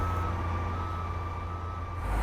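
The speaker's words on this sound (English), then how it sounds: "Bus is leaving without me." A city bus pulls away with a steady, loud low engine rumble and a constant high tonal whine, continuing without a break, no talking.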